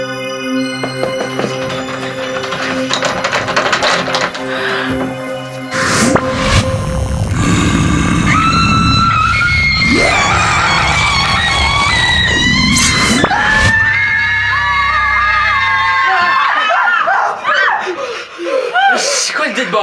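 Women scream loudly and repeatedly in a French-language comedy sketch about video games, shrill cries rising and falling over a tense musical backdrop, with a few sharp bursts and voices mixed in.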